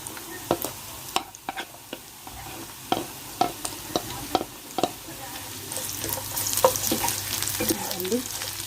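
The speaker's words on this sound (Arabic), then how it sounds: "اول حاجة نبدأ ننزل بالبصل" Onions sizzling in a pan for homemade chicken shawarma, with a run of sharp clicks and scrapes from stirring over a steady frying hiss that grows louder and busier toward the end, no talking.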